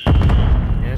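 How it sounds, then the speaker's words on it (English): A grenade blast in Call of Duty: Modern Warfare 3 hits as one loud, close boom with a long rumbling tail. "Ooh, I hear grenades."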